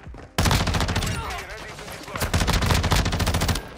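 Rapid automatic gunfire from Call of Duty Modern Warfare 2 rattles loudly and close in two long bursts after a brief quiet start.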